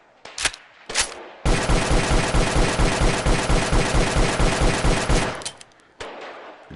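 Mark 23 pistol in the VR shooter Gun Club VR, firing rapidly in a dense, nearly continuous four-second burst of loud shots, preceded and followed by a few isolated shots and mechanical clicks.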